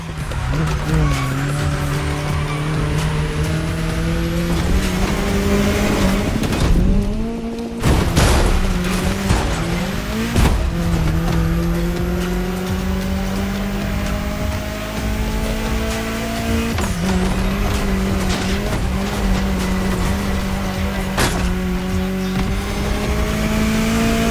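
A car engine drones steadily through the streets of the state capital in The Crew Motorfest's Hawaii setting, with shifting revs, tire squeal and skids, loud and continuous throughout.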